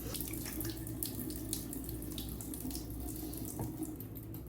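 Warm water runs steadily from a bathroom tap while someone washes their face, a soft continuous rush with no pauses and no talking.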